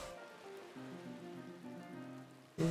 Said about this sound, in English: It's raining, rain.